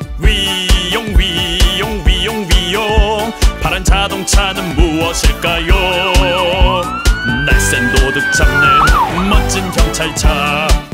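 A loud, wailing police siren rises and falls repeatedly in a Tayo the Little Bus children's song, mixed with busy musical tones and a long sweeping whine near the end.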